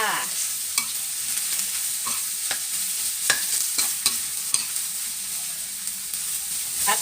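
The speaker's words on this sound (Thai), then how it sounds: "ผัดบวบเหลี่ยมให้สุกจ้า" Sliced angled luffa stir-fried in a wok, with a soft continuous sizzle and irregular spatula scrapes and taps against the pan, close up and without voices.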